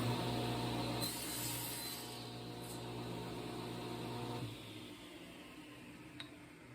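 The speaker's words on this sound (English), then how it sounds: "when you're ready to cut a piece of wood with this fence installed" A saw cuts through a block of wood held against a fence, a steady rough grinding and buzzing for about four and a half seconds before stopping, fairly quiet with no talking.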